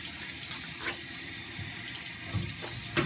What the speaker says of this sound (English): I'm washing my hands now, so I don't forget to wash them before I take my face again.